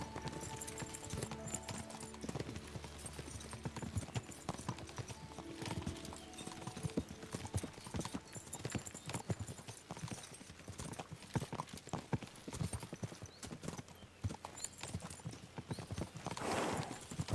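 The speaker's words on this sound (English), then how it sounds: "We should spur the horses on." Horses' hooves clip-clop steadily while riding in the video game Kingdom Come: Deliverance 2, with an occasional neigh and game music underneath.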